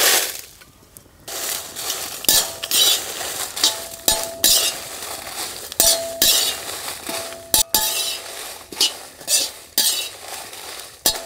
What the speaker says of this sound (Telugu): ఇప్పుడు 1 చెంచా నూనె వేసుకుని ఎండుమిరపకాయలు కూడా వేయించుకుందాం.